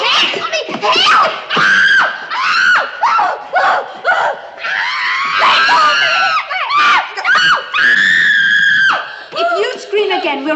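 A girl screams loudly and repeatedly in a dubbed period film, shrill piercing cries mixed with frantic shouting and laughter from other voices close by.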